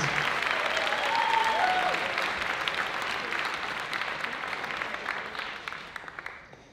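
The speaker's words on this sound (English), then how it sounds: "Let's give them all a big round of applause." A crowd applauds competitive dancers at a live show, steady dense clapping that fills the room and slowly tapers, with a brief whistle-like tone early on.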